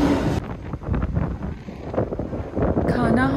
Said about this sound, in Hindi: बहुत ही ज़बरदस्त हवा चल रही है, बहुत तेज़ हवा